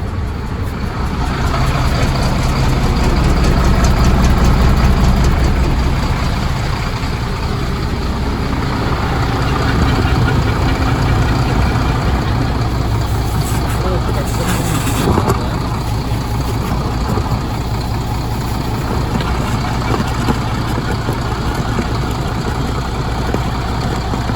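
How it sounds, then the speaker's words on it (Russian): A car engine starting and idling with a rough sputter, a loud continuous low rumble held close throughout, its pitch swelling slightly early on. "Так, попробуем завести, посмотреть. Чпыхает."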